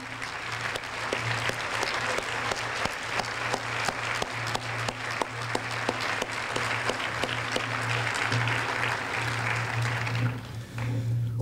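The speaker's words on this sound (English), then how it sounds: "let's give them a round of applause" Sustained audience applause at an awards ceremony honouring university and college presidents, broad and even from a large seated crowd, with sharp individual claps standing out and a steady hum beneath, fading near the end.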